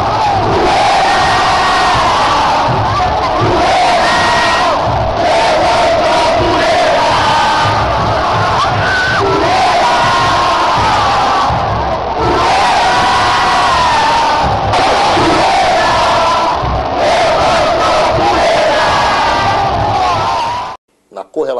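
Flamengo supporters sing the chant Poeira as a massive stadium crowd, loud rhythmic chanting and cheering pulsing in waves throughout before cutting off abruptly at the end.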